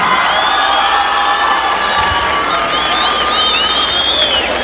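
A rodeo crowd at a university ropers' tournament (jaripeo) cheers, whistles and applauds in a loud, continuous roar that holds steady for the whole stretch.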